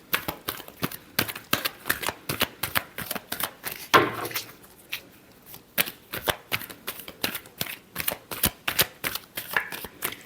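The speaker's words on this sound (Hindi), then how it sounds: "Last shuffle." Tarot cards are shuffled by hand in a quick, steady rhythm of crisp riffling bursts, close and fairly quiet, with a brief pause partway through and no talking.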